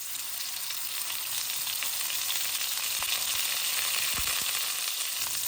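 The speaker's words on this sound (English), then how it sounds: "Once the oil is hot, I'm going to put the whole paneer in it and cook on both sides for a couple of minutes." A whole block of paneer fries in hot oil over high heat, a loud, steady sizzle with faint crackles and pops running throughout.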